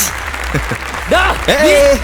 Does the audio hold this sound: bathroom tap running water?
no